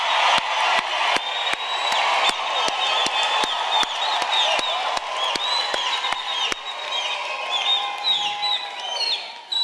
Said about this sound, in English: I need to hear that applause with ululation, Mididi Etsane.